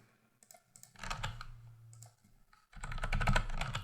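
Computer keyboard typing while editing code, with a few isolated clicks followed by two dense bursts of rapid keystrokes close to the microphone, separated by a short pause.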